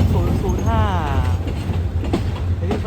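SRT GEK locomotive number 4010 hauling train 777, a steady loud rumble of rail traffic with rolling clatter throughout, plus a brief whining tone near the start.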